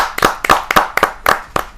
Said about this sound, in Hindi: जरा जोरदार तालियों के साथ हम स्वागत करेंगे।